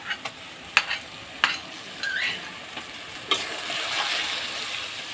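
Garlic paste and chili paste stirred into onions frying red-brown in oil, with a close sizzle, several sharp scraping clinks of the spoon against the pan, and a louder surge of hissing toward the end, no talking.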